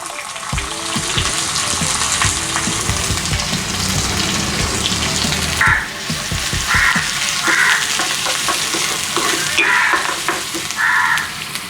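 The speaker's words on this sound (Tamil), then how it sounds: "எண்ணெய் கொதிச்சிட்டு கொஞ்சமாக கடுகு போட்டுக்கொள்கிறேன். கொஞ்சமாக பெருஞ்சீரகம், அதை தொடர்ந்து வெங்காயம்," Mustard seeds, fennel and onion frying in hot oil, producing a loud, continuous sizzle that swells sharply as the onion goes in, with crackling and stirring scrapes continuing throughout.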